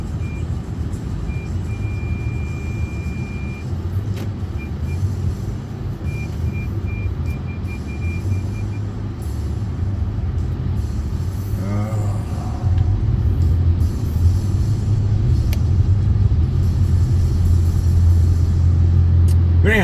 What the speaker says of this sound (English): this fucking traffic.